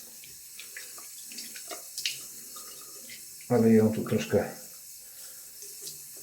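Tap water runs to rinse a Semogue Hereditas 820 shaving brush after a shave, a low, continuous flow with a short stretch of speech over it partway through.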